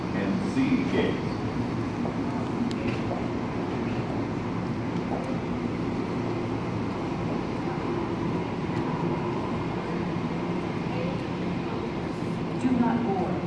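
An automated people-mover train at Denver International Airport, running between the terminal and Concourse C, rolls along with a steady, continuous rumble and hum, heard from inside, with faint clanks and a little background commotion.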